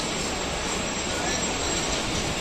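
Pakistan Express train pulling away from Jhelum station after a short stop, a steady loud rumble of carriages and wheels on track heard from close by, with no break.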